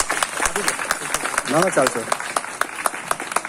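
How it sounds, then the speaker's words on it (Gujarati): An audience at a school gratitude event gives the principals a standing round of claps, sharp repeated hand claps at a steady rhythm beneath a speaker's voice. "હું એમને બધા તાળીઓથી વધારી લઈએ આપણે બધા પ્રિન્સિપાલોને"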